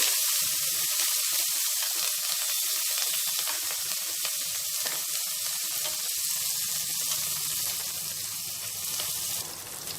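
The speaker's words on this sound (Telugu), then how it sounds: "ఇప్పుడు వీటిని కొద్దిసేపు మనము ఫ్రై చేసుకోవాలి" Green chillies and curry leaves fry in hot oil for a tangy bottle gourd curry, giving a steady, close, loud sizzle that crackles on throughout with no voices.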